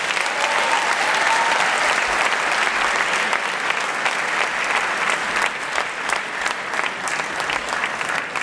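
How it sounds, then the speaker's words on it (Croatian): An audience claps loudly at a school charity concert, with sustained, dense applause that holds steady and thins slightly toward the end. "Pozdravimo ih velikim pljeskom!"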